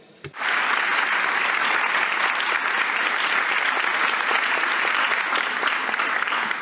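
A large audience breaks into loud, sustained applause to welcome a television showrunner and author as a guest at a public talk. The clapping starts abruptly and holds a steady, even roar throughout.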